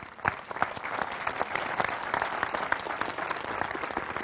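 An audience applauds a speaker at a sales-skills talk, sustained and fairly even clapping from a sizeable crowd heard at some distance, continuing without any voice over it.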